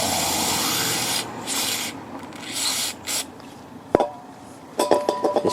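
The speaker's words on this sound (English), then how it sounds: "I'm just going to clean it up a little bit with some brake cleaner" Brake cleaner sprayed onto a Ford Fiesta EcoBoost engine part in a home garage: steady hissing spray bursts with pauses, a sharp knock near the end, then quick rattling clicks as the can is shaken.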